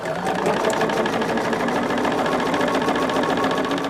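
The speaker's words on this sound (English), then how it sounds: "So I am just going to sew this one on here." A sewing machine stitches fabric in a steady, continuous mechanical whir with rapid even needle chatter, close up and loud, with no voices.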